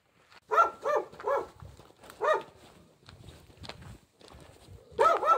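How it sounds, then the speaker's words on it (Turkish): A dog in a Turkish village barks repeatedly nearby in loud clustered bursts, with quieter shuffling or footstep sounds in the gaps between barks. "Burada köpek bize hoş geldin mi diyor"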